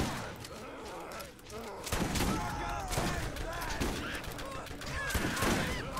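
Rapid gunfire from an SMG in the game Borderlands 1, dense bursts of shots and impacts layered close and loud, with a voice talking over the action.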